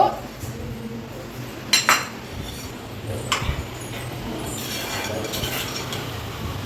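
Paneer is stirred in a pan, with a few sharp clinks of a metal spoon against the pan over a low, steady background, loudest in a couple of brief bursts.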